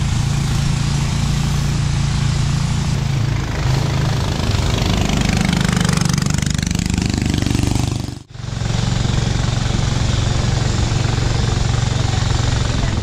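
A loud trawler boat engine drones steadily throughout on a canal in Alikadam, Bandarban, with a brief dip near the end before the chugging resumes.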